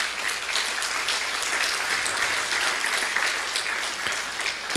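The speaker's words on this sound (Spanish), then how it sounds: "¿Cuánto le dan un aplauso al Señor por eso?" A church congregation claps together in a steady, sustained round of applause that holds evenly for several seconds, dense and fairly close, with no speech over it.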